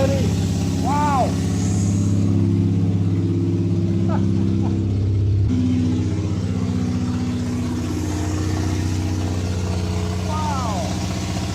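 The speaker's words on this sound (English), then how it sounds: "And it's idling already." An abandoned car's revived engine idles with a steady low hum throughout, close by, while people's voices break in briefly over it.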